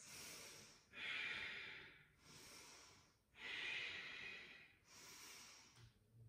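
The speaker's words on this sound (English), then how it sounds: "Deep Ujjayi breaths." Slow, deep Ujjayi breathing during a yoga flow, three long hissing breath cycles alternating steadily in and out, close and soft with nothing else over it.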